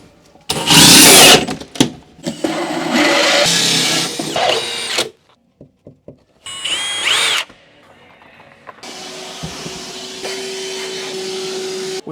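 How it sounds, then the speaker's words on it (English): Power drill boring a hole through a caravan floor for diesel heater exhaust and intake pipes, loud bursts of drilling that stop and restart, with short clicks between and a steady motor hum near the end. "We're going to drill the hole to drop the exhaust and intake pipes through the floor just here."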